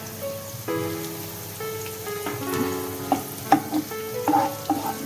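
Onions and capsicum sauté in a hot pan while being stirred for fish noodles, a steady close sizzle broken by clinks and scrapes of a utensil against the pan, with no voices.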